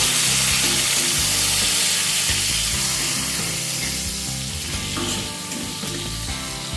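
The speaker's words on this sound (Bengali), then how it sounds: "এবার এই তেলের মধ্যে আমি এখানে একটা বড় সাইজে স্লাইস করে কেটে রাখা টমেটো অ্যাড করে দিচ্ছি।" Sliced tomatoes sizzle loudly in hot oil as they are stirred for a Bihari-style fish curry, a dense continuous frying crackle with soft spoon movements underneath and no speaking.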